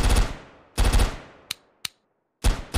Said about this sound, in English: I'm able to shoot.